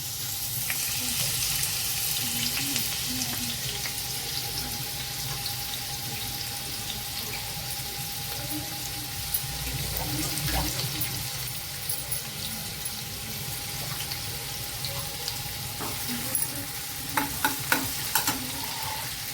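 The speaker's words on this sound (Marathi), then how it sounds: "तर तेल आहे ना आपलं तापलेलं आहे. सगळ्यात आधी आपण कांदा टाकून घेऊया." Chopped onion sizzles and fries in hot oil in a pan for a Marathi ridge gourd curry, with steady crackling and occasional stirring scrapes throughout, fairly close and alone without talk.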